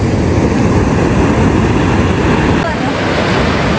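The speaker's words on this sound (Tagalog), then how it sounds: "Kasi malulaki naman ng alon" Loud, steady roar of ocean surf fills the clip, waves rushing continuously with heavy wind buffeting the microphone.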